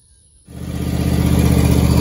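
A John Deere Z255 lawn tractor engine fitted with a new aftermarket carburetor, running on choke, starts after a brief quiet moment and settles into a steady, close, loud mid-pitched drone with a slight rise in level.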